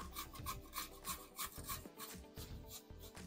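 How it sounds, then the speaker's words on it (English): Cucumber being grated by hand on a grater: steady back-and-forth rasping strokes, close and loud, repeating in a quick rhythm with no talking. "this is the side of the grater that you'd be using to grate the cucumber"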